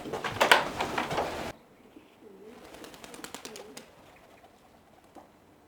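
Pigeons in a loft coo softly in low repeated murmurs after a brief burst of louder bird noise, with scattered faint calls in the background.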